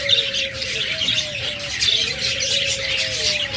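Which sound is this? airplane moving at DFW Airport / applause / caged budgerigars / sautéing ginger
caged budgerigars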